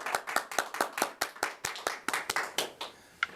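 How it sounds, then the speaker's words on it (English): Quick, crisp hand claps ring out at a Chamber of Commerce annual meeting as an award winner is honored. The claps are sparse and fairly close, coming from a small group rather than a big crowd, and end with one last clap. "A round of applause again, please"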